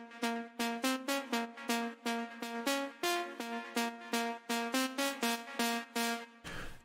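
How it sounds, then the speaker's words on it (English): Synth lead patch from the Diva software synthesizer, played as a steady rhythmic pattern of short plucked notes with a bright buzzy tone, clear and alone, ending in a brief noise burst. "the most important one is this one right here, which comes out of this cool VST called Diva"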